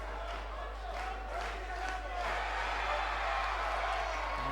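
A crowd at a wrestling event rises to its feet, a steady roar of cheering and murmuring voices with a constant low hum beneath, growing slightly louder toward the end.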